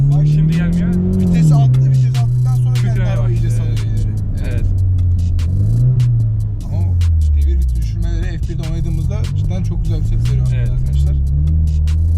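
A Ford Mustang engine revs and accelerates as the throttle is pressed, a deep loud drone rising and falling in pitch across several throttle changes, heard from inside the car.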